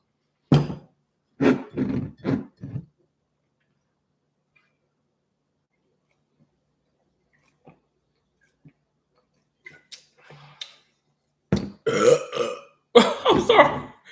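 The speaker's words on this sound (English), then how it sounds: "I'm sorry for burping." Several loud, close burps follow a drink of Saratoga sparkling water, a cluster of short throaty belches, then a long quiet gap with faint ticks before more rough burps near the end.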